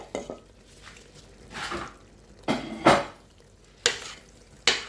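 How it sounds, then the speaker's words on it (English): Onion and spring onion going into a hot pot, heard as a soft background sizzle broken by several sharp scraping stirs and clinks of a utensil against the pot, with no talking. "I fried it a bit for about 2 minutes"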